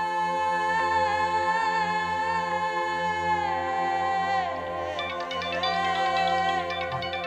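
A mobile phone plays a steady, melodic ringtone indoors at home, looping continuously for several seconds with no voices.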